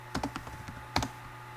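Quick bursts of keystrokes on a computer keyboard as a word is typed, a short run of clicks followed by a pause and one final strike, fairly close against a steady low hum.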